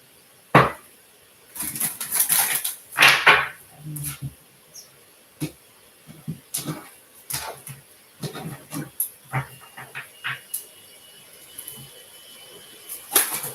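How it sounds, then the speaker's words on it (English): Tarot cards being shuffled by hand, giving loud close riffling and rustling bursts early on, then a run of sharper, sparser card taps and flicks that fade out toward the end. "One more shuffle."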